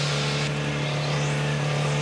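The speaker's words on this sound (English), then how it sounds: "you could hear him trip that pit lane speed limiter and light the tires up" An IndyCar engine at the 2009 Homestead oval race drones loud and constant as the car leaves pit lane, tripping the speed limiter and spinning its tires.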